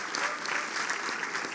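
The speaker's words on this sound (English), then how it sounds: "Round of applause." Conference Q&A audience giving a brief round of applause for the mic runners, a dense, even burst of many hands clapping throughout.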